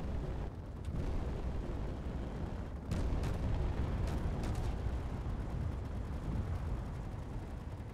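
Explosions of spaceships being destroyed in Space Engineers rumble as a dense continuous roar, with several sharper blasts punching through around the middle, loud and without speech.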